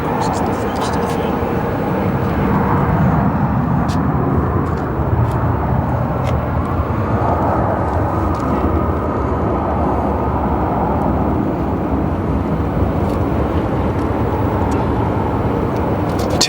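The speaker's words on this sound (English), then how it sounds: "Taxiing to the east right now" Frontier Airbus A320neo taxiing at Phoenix Sky Harbor airport, heard as a continuous broadband jet engine rumble and whine at a steady level from a moderate distance, with a few faint clicks and a voice talking over it.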